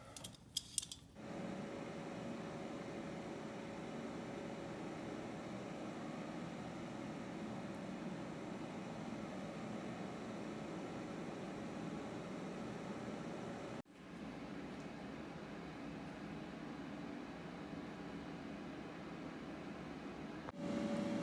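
Ninja air fryer running while chicken seasoned with rub cooks inside, a steady, even fan whir and hum that holds for a long stretch, briefly dipping once before resuming, with no talk.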